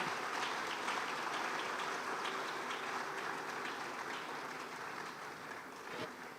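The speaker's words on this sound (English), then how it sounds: "give yourselves a round of applause" A crowd applauds at a university dialogue series event, a dense, even wash of clapping heard from a distance that holds steady and then tapers slightly toward the end.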